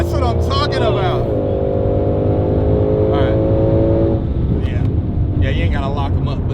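A 2020 Ford Mustang GT500 roars hard down a quarter-mile drag strip, its engine note rising steadily through the gears amid wind buffeting, while excited voices shout over it.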